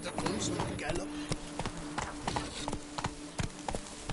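Hooves clip-clop in a quick, uneven galloping rhythm as a horse runs in The Witcher 3, close and fairly loud, with busy game sounds around the beats.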